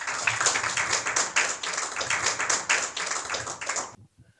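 An audience claps in welcome for a lecturer at a symposium, a brief burst of dense, steady applause that stops abruptly after about four seconds.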